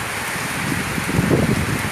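Light, steady rain falls during a thunderstorm in Isan, Thailand, a continuous soft patter on surfaces with slightly louder drops pattering toward the end and no voices.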